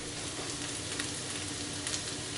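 Halved bacon strips sizzle loudly and steadily in a frying pan as they are laid in, a close, continuous crackling hiss.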